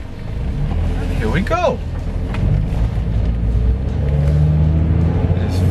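A Honda car on a test drive with an automatic gearbox, its engine droning and rising as it pulls away, with a brief squeal-like sweep early on and a person speaking briefly over the steady cabin rumble.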